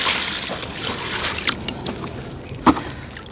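Compost tipped from a wheelbarrow into a garden bed makes a loose rushing, crumbling pour with scattered soft thuds and one sharper knock near the end, close by with no talking.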